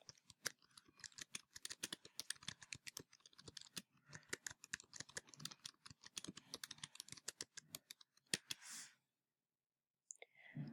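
Rapid typing on a computer keyboard, dense clicking keystrokes in quick irregular bursts close to the microphone, pausing briefly near the end before a few more taps.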